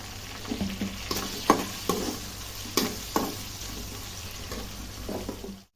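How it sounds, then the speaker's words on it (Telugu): Potatoes, onions and green chillies fry and sizzle in a pan for a potato curry, with a steady close hiss broken by several scraping stirs of a spatula. "ఆనియన్స్ పచ్చిమిర్చి కూడా ఆలుతో పాటు ఫ్రై అయిపోతాయి"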